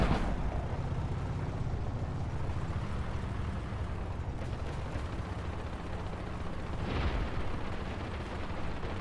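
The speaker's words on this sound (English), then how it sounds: "requesting artillery support. Affirmative. Stand by for artillery mission." Artillery strikes in the Ravenfield video game produce a dense, continuous rumble of distant explosions. A brighter blast bursts through near the end.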